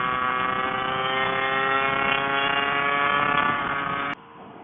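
A Lambretta Casa Performance SSR 265 LC two-stroke scooter, liquid-cooled with a 56 hp tune, ridden on the road: a loud, steady, high-pitched engine note held for about four seconds, then an abrupt drop as the throttle closes.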